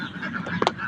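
Domestic ducks kept in a backyard, a couple of quick nasal quacks near the end of a brief moment over soft background noise.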